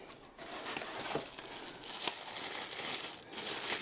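Quiet crinkling and rustling of basic packaging as a GameSir G7 SE Xbox controller is unboxed, with soft scattered crackles and a few sharper tears, close and fairly faint with no talk.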